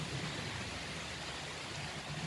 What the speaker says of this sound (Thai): ฝนตกแล้วค่ะ ได้ทดลองพอดีเลย